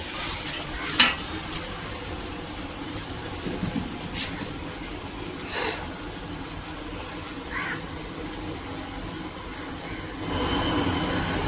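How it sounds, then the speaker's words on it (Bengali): Food sautés quietly in a pan on a low flame after water has been added, with a soft steady sizzle and occasional faint scrapes of stirring. "এবার কষাও"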